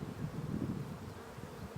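Honey bees buzz at an opened hive while nucs are being made, a steady low droning hum from many insects close by, continuous through the whole moment with no talking.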